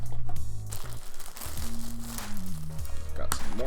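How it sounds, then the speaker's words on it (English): Packaging crinkles and rustles while a Corsair K70 RGB mechanical gaming keyboard is unboxed, a continuous run of close, irregular crackling under steady background music tones. "Got some more packaging here."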